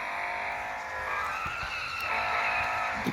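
A Koenigsegg Jesko slides through a long drawn-out skid on the Spa circuit in a racing video game, a steady loud tire squeal over the engine's roar that lasts the whole stretch.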